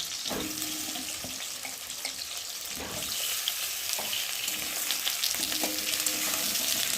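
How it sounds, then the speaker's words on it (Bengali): Long-cut potato strips fry in oil in a pan with fried onions, giving a dense, steady crackling sizzle up close, broken by several spoon scrapes and knocks as they are stirred, with no voices. "এখন কেটে রাখা লম্বা লম্বা করে আলুগুলোকে দিয়ে ভালো করে ভেজে নেব"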